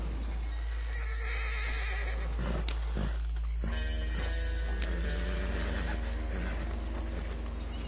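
A horse in Red Dead Redemption 2 whinnies over clip-clopping hooves and a steady low hum, with game-like ambience throughout.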